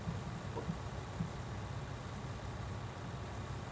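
A combine harvester in Farming Simulator 19 edges toward a tractor on sloping ground, with a low, steady engine rumble at fairly low level and faint knocks early on.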